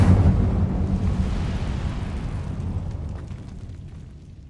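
A fire spell blast in the video game Hogwarts Legacy: a loud, close roaring burst at the start that rumbles and slowly fades over several seconds, heard alone.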